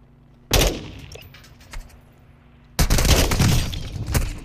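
Two loud bursts of video-game gunfire, one from about half a second to nearly three seconds and a second sustained volley starting near the three-second mark, with heavy low rumble and sharp crackling impacts.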